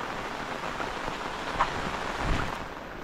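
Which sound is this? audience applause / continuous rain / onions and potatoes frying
continuous rain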